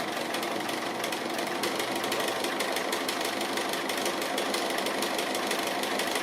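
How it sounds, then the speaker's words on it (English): A sewing machine free-motion straight stitching on applique with feed teeth down, a steady fast mechanical whirring chatter throughout, close and continuous with no talk. "So just free motion straight stitching."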